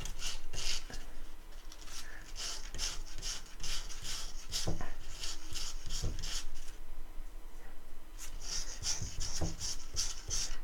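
Rhythmic rasping strokes of sandpaper rubbing small wooden catapult parts, in quick repeated bursts with short breaks, close and fairly quiet.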